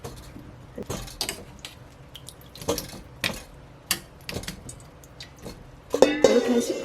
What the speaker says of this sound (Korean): 바구니에다가 오이를 건져 주겠습니다